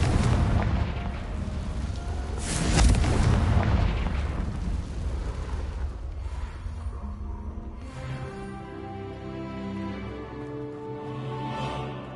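A Confringo explosion spell bursts in Hogwarts Legacy, with a loud, booming blast that swells and rumbles through the first few seconds, then fades into softer game ambience with lingering tonal magical shimmer.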